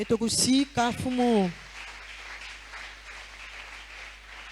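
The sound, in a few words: church congregation applauding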